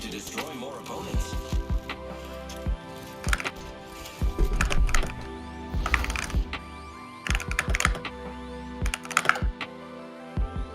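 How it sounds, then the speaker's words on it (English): Bursts of key clicks from a new computer keyboard during a KovaaK aim-trainer gaming session, irregular clusters of clacks at close range, with game sounds in the background. "I just got a new keyboard."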